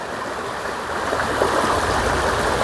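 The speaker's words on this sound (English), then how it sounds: "we're realizing this is the Tiptoe waterfall" Tiptoe Falls, a small waterfall feeding a stream on a camping hike, rushes in a steady, dense broadband roar that stays constant and close throughout, with no voices over it.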